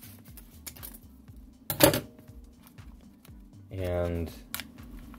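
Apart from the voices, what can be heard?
cutting open vacuum-packed Cafe Bustelo coffee brick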